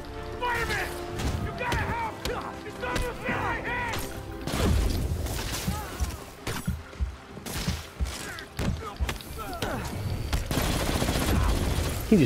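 Rapid gunfire and crashing impacts in the Spider-Man video game, several bursts of shots mixed with game voices, music and clattering debris at steady loudness.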